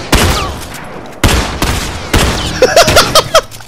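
Gunfire in The Last of Us Remastered multiplayer: three heavy booming shots spaced about a second apart, followed by a quick cluster of sharper cracks and pops, loud and close.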